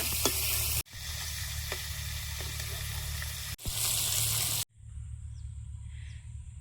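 Small desi tengra fish fry in a pan, a steady loud sizzle broken by two brief gaps before it drops to a quieter hiss near the end.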